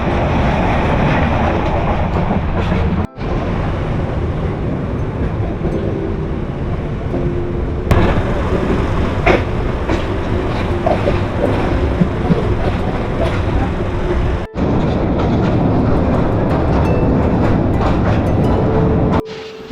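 A passenger train from Dhaka to Sylhet rumbles steadily and loudly from inside the carriage, with continuous wheel and track noise and a few brief drops in level.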